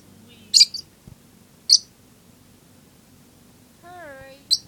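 Pet lovebirds give a few sharp, high chirps spaced seconds apart, close and clear in an otherwise quiet room, with one short, warbling call near the end.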